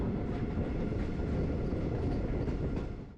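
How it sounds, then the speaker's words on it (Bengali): The Mussoorie Express rolls along a single-line section past Haridwar, a dense, steady rumble of wheels and carriages with faint clacking, loud and close, easing off at the very end. "যেই কারণে ট্রেন ধীরে ধীরে এঁকে বেঁকে এগিয়ে চলল"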